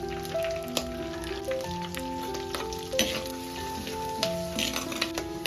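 Steady crackling sizzle of crushed garlic frying in hot oil, with scattered pops and a faint tonal hum running underneath.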